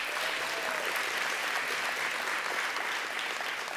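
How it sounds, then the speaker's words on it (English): Audience applause at a city's annual state-of-the-city address, a thick continuous roar of clapping from a large crowd, even and sustained throughout with no pauses and no speech on top. "give them applause"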